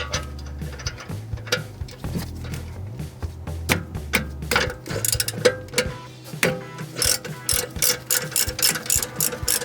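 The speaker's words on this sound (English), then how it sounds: "So now we've got the 9mm hexagon driver and a ratchet set to undo." Ratchet with a 9mm hex driver undoing the front brake caliper bolts on a 2018 BMW 640d Gran Coupe F14, giving rapid clicking bursts and metallic clanks, close up, with no talk.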